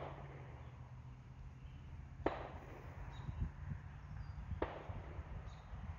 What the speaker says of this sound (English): Sorry for the gunshots.